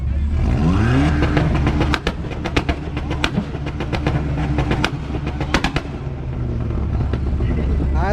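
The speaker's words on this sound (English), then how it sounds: "All right, let's hear the Audi." Audi car engine revved hard at a street car meet two-step contest, loud repeated limiter pops and crackles over a droning idle with crowd noise behind it.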